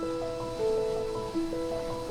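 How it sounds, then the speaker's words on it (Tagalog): Heavy surf breaking on the beach at sunrise in Dingalan, Aurora, a steady broad wash of ocean waves that runs the whole time beneath a layer of music. "Taas na alon, no?"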